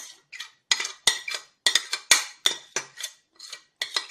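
A spoon stirs an oil mixture for a homemade cough remedy in a container, giving repeated close clinks and scrapes in an uneven rhythm with no talking.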